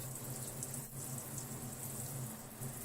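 Water pours onto plaster powder in a mixing bowl as a steady, hissing stream that runs unbroken and fairly loud, with no voices.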